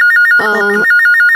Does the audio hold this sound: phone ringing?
yes